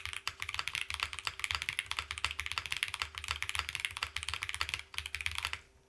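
Steady fast typing on a wireless keyboard fitted with Kinetic Labs capybara switches and foam, a dense run of crisp close keystrokes with a few short pauses.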